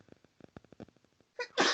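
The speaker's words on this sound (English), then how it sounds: "I don't know why I just started sneezing." A person sneezes once, loud and close, after a quick run of short catching breaths.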